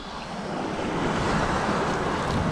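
Sea waves break and wash steadily along a fishing shore, a loud continuous roar of surf with wind buffeting the microphone, and no voices.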